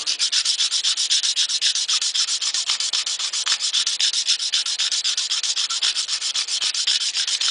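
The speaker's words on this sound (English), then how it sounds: "just by filing it, and you can see it start to turn silver evenly throughout the whole area." Hand file worked back and forth over a stainless steel surface, a fast even rhythm of harsh scraping strokes, loud and close with no talk.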